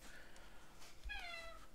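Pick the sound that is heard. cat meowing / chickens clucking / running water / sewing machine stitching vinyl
cat meowing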